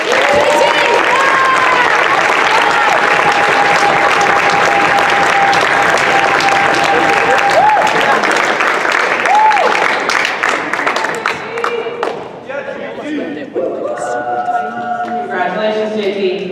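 Students and families at a spring school awards assembly applaud an award winner, a long loud ovation with some cheering that thins out toward the end as scattered claps and voices remain.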